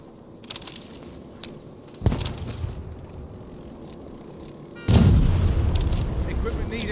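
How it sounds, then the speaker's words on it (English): A frag grenade goes off in the video game World War 3 during a tactical conquest match, a deep booming blast followed by a sustained loud rumble, with earlier muffled thumps and faint distant voices around it. "Tossing frag!"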